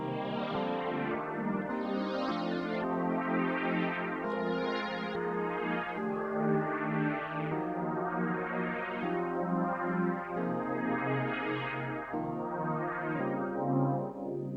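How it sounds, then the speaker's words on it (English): A Nord Lead synthesizer patch plays alone, a dense, sustained chordal pad with shifting notes and swelling bright upper tones, steady and moderately loud throughout. "So this is the Nord lead alone. Sounds like this."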